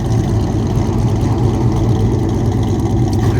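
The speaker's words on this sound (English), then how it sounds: "That is a sweet car" The General Lee car's engine idles nearby with a steady, loud, low rumble that holds even throughout, no revving and no talk.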